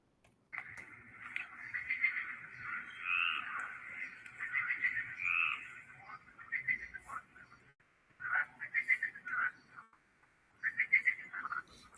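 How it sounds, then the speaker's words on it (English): Frogs croaking in a quiet night setting: a dense, buzzing chorus of repeated croaks runs steadily for several seconds, breaks off briefly, then resumes in shorter bursts. "frogs kept croaking during the quiet night"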